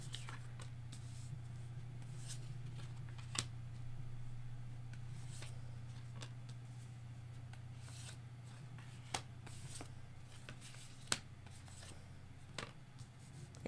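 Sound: shuffling tarot cards

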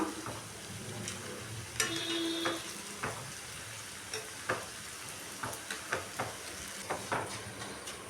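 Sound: food frying in hot oil, sizzling

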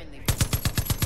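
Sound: turret gun firing in the video game Far Cry 5

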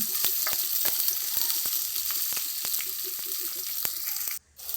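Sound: sautéing crushed shallots in a pan

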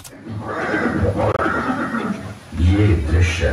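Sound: horse neighing, Maharana Pratap's horse Chetak

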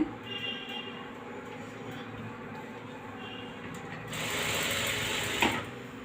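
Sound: sewing machine stitching an embroidery blouse

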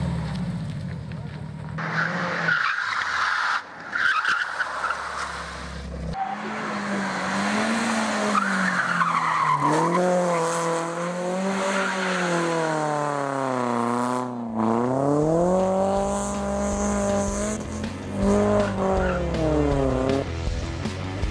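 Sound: rally cars racing on the track

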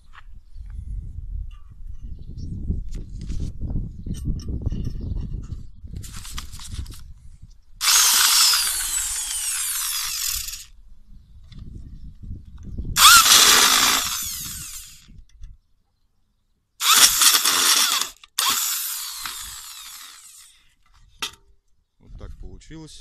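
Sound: power screwdriver driving self-tapping screws into plates

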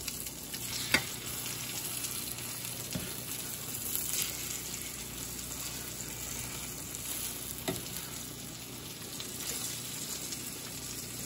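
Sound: pork schnitzel sizzling while frying in a pan

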